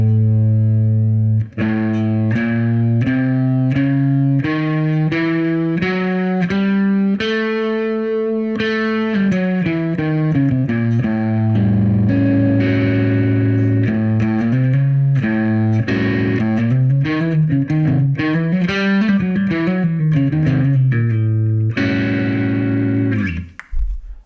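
An electric guitar with distortion runs the halftone-wholetone scale in A in a bluesy setting. Single notes climb and descend steadily and continuously for over twenty seconds, with no talking.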